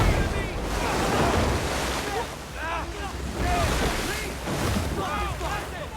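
River rapids in the 2017 jungle survival film Jungle make a dense, continuous rush of churning water that roars steadily throughout, with faint tonal sounds drifting through the noise.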